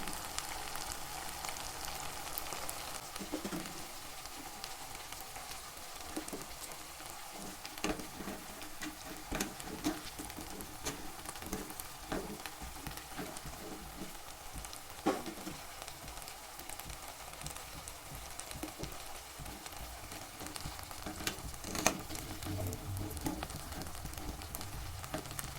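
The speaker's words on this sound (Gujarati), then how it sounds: "આવી જ રીતે આપણે બધા જ બોલ્સને તળી લેશું." Rice flour balls deep fry in hot oil with a quiet, continuous fine crackle and sizzle, steady and faint, with occasional small ticks.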